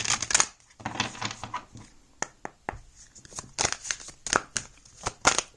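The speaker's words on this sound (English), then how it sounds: "Just shuffle this deck." A deck of tarot cards being shuffled by hand, close and crisp, as bursts of riffling and flicking snaps at an uneven pace, with short pauses and no talk.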